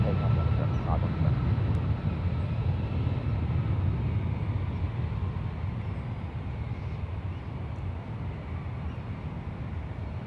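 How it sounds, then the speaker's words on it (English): An Emirates Airbus A380 landing at San Francisco airport makes a steady, loud, broadband jet roar that holds for the whole stretch, with talk faintly underneath. "Look at that massive A380 Emirates 51 November coming in today from Dubai."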